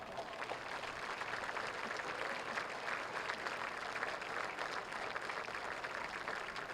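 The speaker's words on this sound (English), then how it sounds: "How about a nice round of applause?" Stadium crowd at a high school football game between Chambersburg and Altoona gives a long, steady round of applause, dense clapping from many people that holds without a break, distant and unaccompanied by talk.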